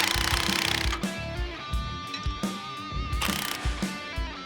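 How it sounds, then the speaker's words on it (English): A ratchet tightens castle nuts on the steering linkage of a box-body tow truck, repeated clicking bursts in a rhythmic pattern, up close over a steady mechanical hum. "we can start tightening all the castle nuts"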